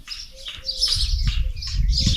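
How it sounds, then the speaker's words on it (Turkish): Small birds chirp and tweet repeatedly in a village, high bright calls coming in quick bursts at moderate distance over a low rumbling background, with no talking. "Kuşlara bak cik cik cik cik."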